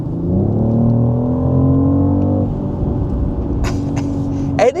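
A 2025 BMW X3 M50i accelerates hard in sport mode, its engine rising in a loud, sustained surge with harmonics climbing through the gears, and a brief sharp noise near the end.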